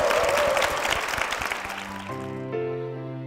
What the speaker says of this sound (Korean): 두 분께 큰 박수 부탁드리겠습니다